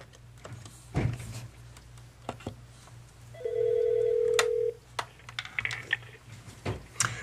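An Aastra 6757 VoIP desk phone establishes a call, giving a steady electronic tone of about a second amid scattered key presses and clicks in a quiet room.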